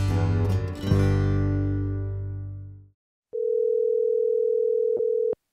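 A telephone dial tone sounds while a call is being placed: a steady electronic tone that starts after a fading musical note and runs for about two seconds, with faint clicks before it cuts off.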